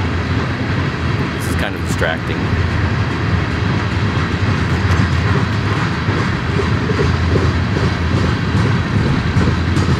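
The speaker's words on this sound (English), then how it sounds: "Little distracting with the train going by." A train rolls past outdoors, heard while a man searches for a pirate radio transmitter. It makes a loud, steady rumble with a faint clatter, heard close by throughout the clip and under a voice.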